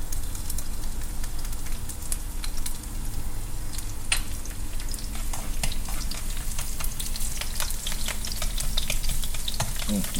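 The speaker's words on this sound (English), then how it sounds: "The oil is getting garlic flavor" Garlic fries in oil for stir-fried seafood ramen, making a steady, close crackling sizzle with scattered sharp pops and no talking.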